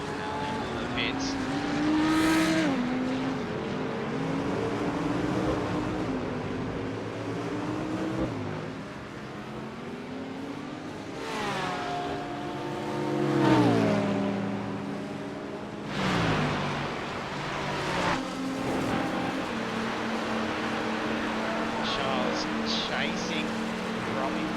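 GT3 race car engines in the iRacing video game wail and shift through gears as the cars head into the pits at Spa, with rising and falling engine pitch under continuous commentary.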